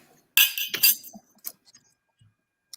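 Wine glasses clink together in a toast, a few bright chiming taps in quick succession followed by small scattered knocks and faint handling noise.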